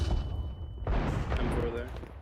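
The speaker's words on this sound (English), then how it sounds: "I'm throwing the flashbang." A flashbang goes off in a first-person shooter game as a sharp, loud bang halfway through, followed by a ringing, whining tone and muffled noise.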